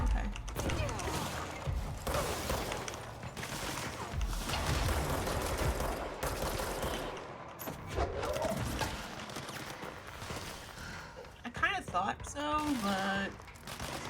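Weapon fire in the Control action game, dense rapid shooting with clattering mechanical impacts against a wall, loud and continuous over much of the stretch, with a person briefly talking.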